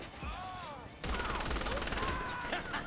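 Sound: gunfire from shooting enemies in video game Saints Row: The Third

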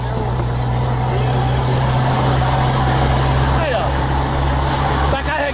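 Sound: FH truck engine revving while braking

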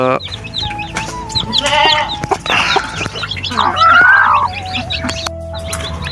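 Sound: hen clucking

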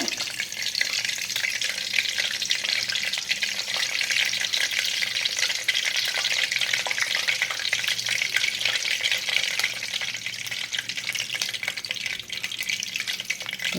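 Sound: curry leaves frying in hot oil for anchovy pickle

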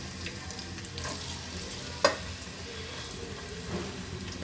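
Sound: frying sliced onions in pan

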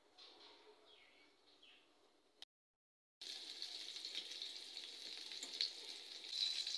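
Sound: oil poured into a hot wok, sizzling

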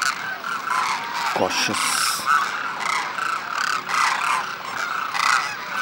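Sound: Demoiselle Cranes calling

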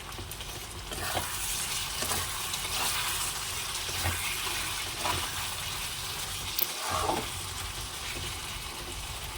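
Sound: curry being sautéed in oil in a pan

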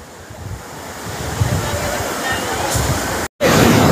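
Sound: ocean waves washing onto a beach

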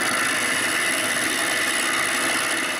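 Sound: wood lathe turning a cherry wood blank

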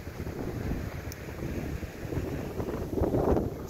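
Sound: strong wind

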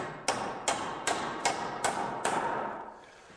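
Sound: hammer tacking a stair carriage to a hanger board

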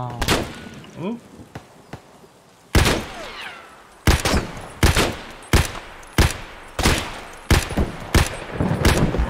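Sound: gunfire in Escape from Tarkov video game

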